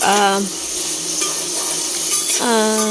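Garlic, onion and green chillies sizzle in a pan under a constant frying hiss, while a voice speaks briefly at the start and end, with a light clink of a utensil in between.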